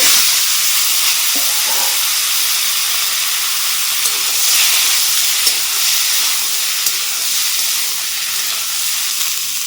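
Washed spinach and mixed vegetables fry with panch phoron and bay leaves in a pan, giving a steady, close, broadband sizzle and hiss that runs throughout with a few faint stirring clinks, and no talking.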